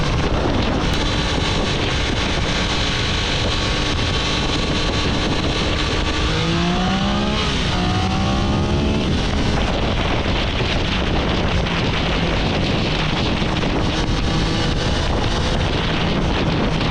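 Triumph Daytona 660 motorcycle exhaust revving hard above 5,000 rpm, a loud, sustained engine roar with a rising pitch sweep partway through, heavy wind buffeting the microphone throughout.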